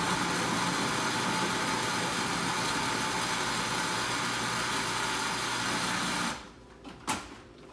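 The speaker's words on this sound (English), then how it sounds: "I'm going to spin it just long enough for the butter to granulate, incorporate with the flour, and no more." A food processor with a metal blade spins butter into flour, giving a steady, loud motor whir for about six seconds before cutting off, followed by a brief clunk.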